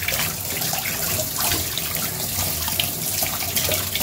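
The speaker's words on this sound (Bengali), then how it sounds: "হাতটা ধুয়ে নিই।" Running tap water pours steadily into a sink as hands are washed beneath it, a continuous close hiss and splash with no talking.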